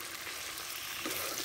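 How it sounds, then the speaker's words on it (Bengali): Meat goes into a pan of fried onions and spices, giving a steady close sizzle and crackle of hot oil that swells slightly near the end. "তারপর পেঁয়াজটা আমার ভাজা হয়ে গেছে। এবার মাংসগুলো দিয়ে দেব।"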